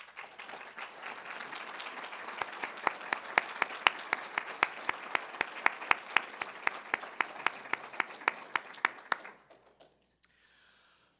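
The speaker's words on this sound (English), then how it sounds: "If you would, please stand so we can give you a round of applause." Audience applause at a Chickasaw contemporary art exhibition lecture, honouring the artists in attendance. Steady clapping from a modest room-sized crowd builds into sharp, regular individual claps toward the end, then stops abruptly and leaves near silence.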